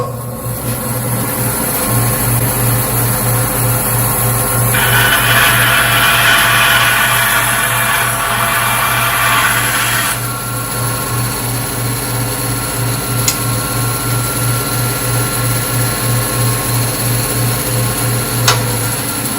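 A power saw runs steadily as it trims small holly wood blocks to size in a miniature workshop. The louder cutting stretch lasts about five seconds over a constant motor whine, with no talk.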